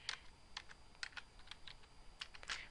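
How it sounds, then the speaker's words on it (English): Someone types an author's name on a computer keyboard: quiet, uneven bursts of light keystroke clicks at close range in an otherwise still room. "So this time I will type in Faulkner"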